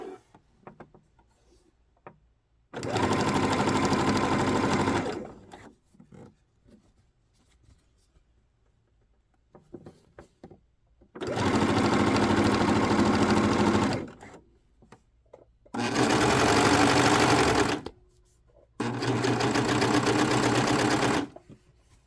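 A sewing machine stitching a decorative strip onto a blazer sleeve, running in four loud, steady buzzing bursts of two to three seconds each, separated by quiet pauses.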